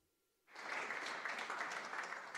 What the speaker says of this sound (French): des joueurs qui commencent à quitter les tables sous les applaudissements